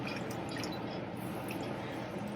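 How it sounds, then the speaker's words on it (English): Water poured into a pot of Nigerian noodles as they cook, a steady close liquid wash with soft dripping and squishy bubbling running throughout. "I still go ahead and put a little bit more water in it"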